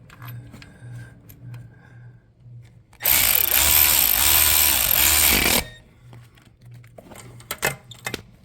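A power tool runs in one loud, steady burst of about two and a half seconds while tightening engine bolts on a Porsche 928 S4 32-valve engine, with quiet clicks and handling noises before and after.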